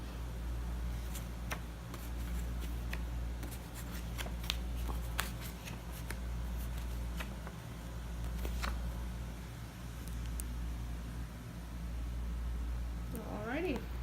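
Paper note cards are shuffled and handled close by in soft, repeated flicks and rustles against a steady low hum, with a voice speaking throughout.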